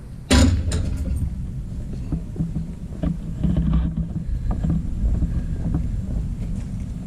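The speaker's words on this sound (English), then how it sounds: "Let's go over a sander." A sander smoothing the rough-cut corners of a metal blower plate for an Eaton M122 supercharger swap onto a 5.3 engine starts abruptly and runs as a loud, steady, rough grinding rush, with some fluctuation as it is worked.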